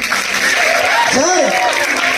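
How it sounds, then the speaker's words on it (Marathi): An audience at a Marathi folk performance gives a burst of loud applause that lasts about two seconds, with a voice carrying over the clapping. "जोरदार टाळ्या"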